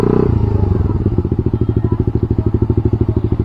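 Manual motorcycle engine at low revs while the rider brakes to a stop with the clutch half engaged: loud, close, steady rapid chugging pulses.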